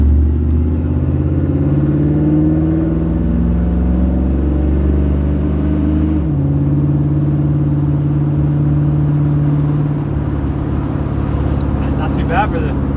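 A 1965 Chevrolet Impala, driven again after sitting more than ten years, cruising on the freeway: a loud, steady engine drone and road rumble inside the car, with a slight pitch shift partway through.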